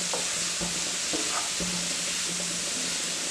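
Chopped onions and garlic sautéing in a pan for a Kerala-style prawn roast, a steady soft sizzle broken by intermittent scraping stirs of a spoon against the pan.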